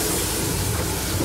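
A steam locomotive pulling away on a single-line railway, a loud, steady broadband hiss and rumble of steam and machinery close by, continuous throughout with no voices.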